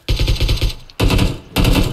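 AK rifle fire in a video game comes as three quick bursts of rapid, loud automatic shots, each a rattling string of rounds, with short gaps between the bursts.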